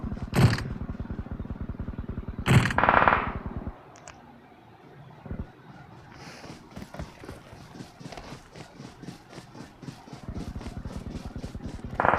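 Two sharp, booming gunshots in BGMI (Battlegrounds Mobile India) crack out early, then a steady stream of quick, rhythmic clicks like running footsteps continues to the end.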